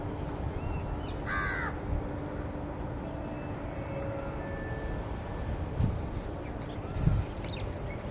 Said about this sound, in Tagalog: may mga huni pa ng ibon